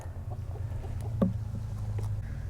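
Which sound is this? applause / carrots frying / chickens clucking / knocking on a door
chickens clucking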